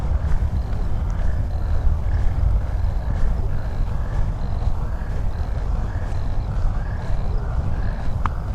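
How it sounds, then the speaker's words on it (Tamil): A frog croaks at a park and mall area in Kuwait. Its short chirping calls repeat at a steady pace, quiet and partly buried under loud, constant outdoor rumble. "உங்களுக்கு கேட்குதா ஒரு தவளை கத்துற மாதிரி சவுண்டு?"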